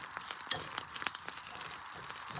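Curry leaves and green chillies frying in oil, a steady faint crackle and sizzle with small popping ticks, heard alone without voices.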